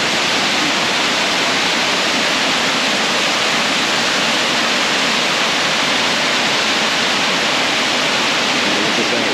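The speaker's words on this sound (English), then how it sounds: "like the sound of these waterfalls are really helpful" Brandywine Falls in Cuyahoga Valley National Park roars in a dense, unbroken wash of falling water, loud and close throughout with no talk.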